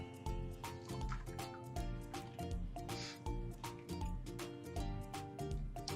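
Water poured over an oil-coated feather during a cleaning demonstration gives a close, steady run of small drips and splashes, with a brief louder gush partway through.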